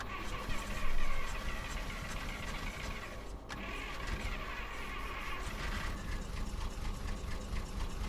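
A rusty 1937 Chevy pickup truck engine turns over and starts, giving a steady, rough broadband rumble throughout with a brief surge near the start and a short dip partway through.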